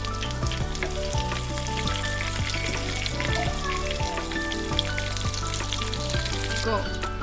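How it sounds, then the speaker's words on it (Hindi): Bread balls deep fry in hot oil with a steady, loud bubbling sizzle throughout, broken by a few soft clinks of a utensil. "हम रोल्स को फ्राई करेंगे।"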